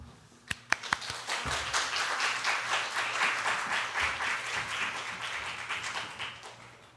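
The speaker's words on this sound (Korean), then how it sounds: "오실 때 큰 박수로 환영하도록 하겠습니다" Church congregation applause welcoming a pastor to the pulpit at a Wednesday service, a few sharp claps first and then sustained clapping from many people, moderately loud and continuous.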